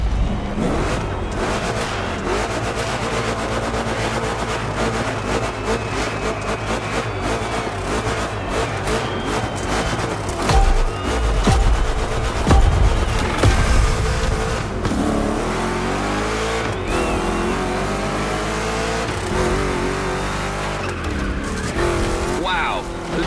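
Two Chevrolet big-block cars racing in The Crew Motorfest, engines roaring and revving loudly with tire skids and shifting pitch through rough turns, someone talking over the game sound.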